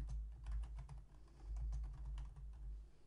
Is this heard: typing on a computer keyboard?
yes